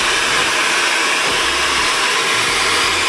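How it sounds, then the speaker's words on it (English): A hair dryer blows with a loud, steady, close-up rushing whoosh throughout, with no voices. "after I'm done with the hair dryer"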